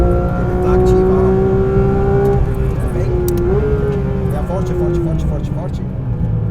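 A Porsche 911 GT3 RS 992 screams up through its revs on the Velo Città track, a loud, rising high-pitched engine wail that dips at a brief shift and then climbs again, heard from inside the car.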